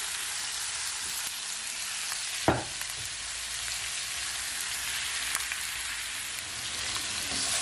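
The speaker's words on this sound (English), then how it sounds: "I'm gonna give it a stir." Jamaican curry chicken wings frying in a pot, a steady soft sizzle with no break and one sharp stirring knock partway through.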